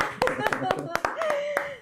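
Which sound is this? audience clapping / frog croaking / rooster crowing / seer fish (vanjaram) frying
audience clapping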